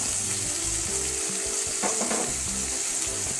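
Eggplant sautéing in oil for a spicy South Indian Tamil kathirikkai kulambu gives a steady close sizzle with soft stirring scrapes and a brief louder burst midway, no talking.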